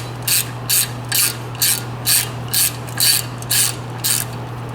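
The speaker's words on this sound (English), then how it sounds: "Now use a T30 Torx with a 3/8 ratchet" Close, crisp clicking of a 3/8 ratchet turning a T30 Torx bolt on a Mercedes-Benz front brake, about ten evenly spaced bursts of ratchet clicks over a low steady hum.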